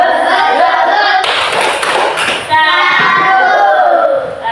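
A classroom group claps a rhythmic salute clap for a student group, loud and close, with children chanting and voices woven through the claps.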